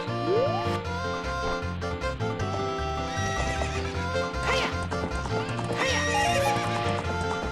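In Zelda: Ocarina of Time, the horse Epona gallops with rapid, rhythmic hoofbeats and lets out a couple of sharp neighs, all up close and loud over a steady game soundtrack.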